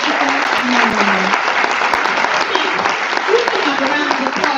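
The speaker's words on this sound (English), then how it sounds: "Let's have a round of applause for Victoria Christopher Murray." An audience at a book event applauds an author, sustained clapping from a room full of people that holds steady throughout, with some voices mixed into it.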